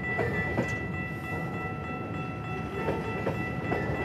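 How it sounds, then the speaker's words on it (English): A long Canadian freight train, at least two kilometres long, rumbles slowly and steadily past at close range, with a continuous low roar, faint rhythmic clacking of wheels and a high metallic whine. "There you go, Canadian train."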